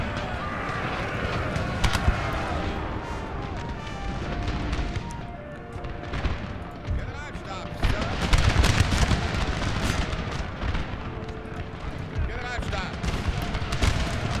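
Musket volleys and cannon booms fill a Napoleon: Total War pitched battle between French and opposing lines, a dense continuous roar of shots and blasts with someone talking over the gunfire.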